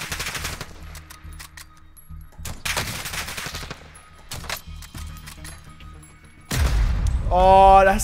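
A Semtex grenade blast and gunfire in a shooter video game: scattered sharp shots and clatter come first, then a loud, heavy explosion near the end, with a voice briefly heard.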